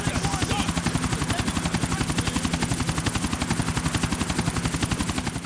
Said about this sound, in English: Alright, I'm flying the helicopter.